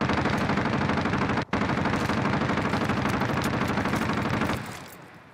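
Loud, rapid automatic gunfire from Call of Duty: Warzone hammers in a continuous stream of close shots, breaking briefly once and then tapering off at the very end.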